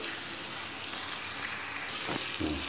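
Ground stuffing for bitter gourd, made from the seedy inner part, sizzles while frying in a pan, a steady close hiss with a few brief spattering pops near the end.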